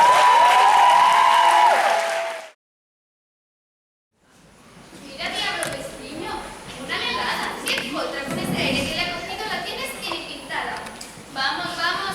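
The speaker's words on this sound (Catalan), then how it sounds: "Fort aplaudiment, sisplau!" A theatre audience at a school drama showcase bursts into loud, sustained applause and crowd noise after a brief silence, the clapping building and continuing steadily with scattered voices.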